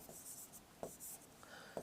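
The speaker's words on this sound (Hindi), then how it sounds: "जैसे मैं यहाँ लिख देता हूं" Chalk or marker writing on a board during a Hindi grammar lesson, quiet scratchy strokes in short bursts with a few light taps, faint and close with no talking.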